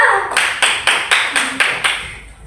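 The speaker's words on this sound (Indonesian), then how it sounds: "Tepuk tangan dulu." A classroom group after a presentation claps in slow, unison beats, about eight sharp, evenly spaced claps, close and fairly loud.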